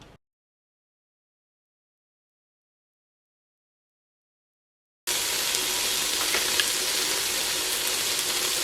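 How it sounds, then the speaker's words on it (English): Bacon rashers fry in their own fat, without oil, in a Ninja Foodi pot, giving a steady close sizzle with faint crackles that starts after about five seconds of silence. "The bacon rashers are releasing their own fat."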